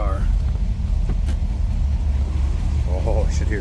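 A 1962 Chevrolet Impala two-door hardtop idles with a steady low rumble, heard close and continuous while a person talks over it.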